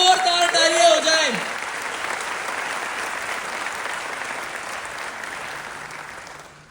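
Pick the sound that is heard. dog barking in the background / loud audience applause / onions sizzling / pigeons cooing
loud audience applause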